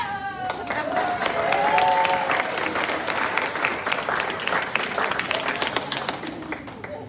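Applause breaks out among staff at a company associate update meeting, a mix of claps and taps rising quickly and then thinning into scattered claps. A brief whistle-like tone rises early on, and a few voices are faintly mixed in.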